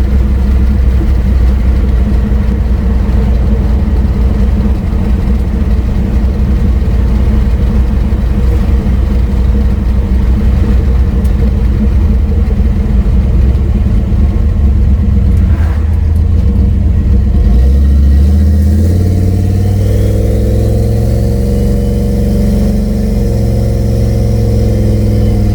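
Boosted Chevy C20 truck engine rumbling loud and close, running steadily at first, then revving with a rising whine as throttle loads the converter.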